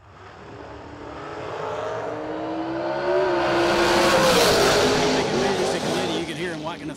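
A dragster roars down the drag strip at a memorial race, its engine swelling from a rising approach to a loud peak and then fading as it passes, with an announcer's voice under the noise.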